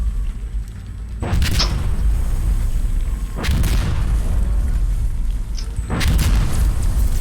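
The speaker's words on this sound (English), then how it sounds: "there's fucking mortars hitting on that point" Mortar shells exploding in Insurgency Sandstorm: three loud, deep booms spaced a couple of seconds apart, each a sharp crack trailing into a low rumble over a constant roar of battle.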